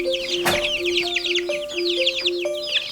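Chickens being herded into a pen give repeated short clucks and chirps over a steady background hum, with a brief bump or flutter near the start.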